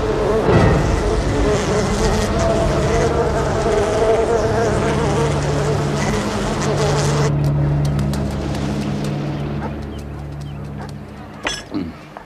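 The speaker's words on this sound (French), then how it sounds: "Les abeilles africaines portent le nom d'Apis mellifera scutelletta." A dense swarm of African killer bees makes a loud, steady buzzing drone that thins out near the end, where a few sharp clinks and knocks break through.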